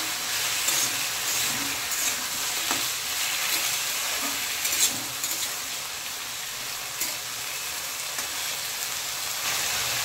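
Cut potatoes fry with onion and green chilli in a pan, a steady close sizzle with occasional stirring scrapes and small pops throughout, no voices.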